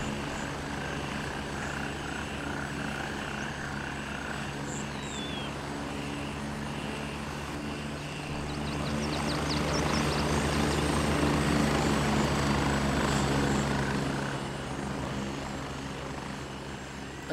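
A video game helicopter drones overhead, a steady mid-distance rotor and engine hum that swells louder for a few seconds in the middle before easing back, with no talk.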